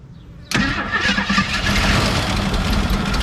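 An old AMC Pacer's engine cranks and catches abruptly, then settles into a loud, rough, steady idle close by.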